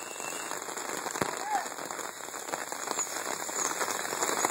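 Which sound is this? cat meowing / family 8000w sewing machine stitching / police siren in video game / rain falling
rain falling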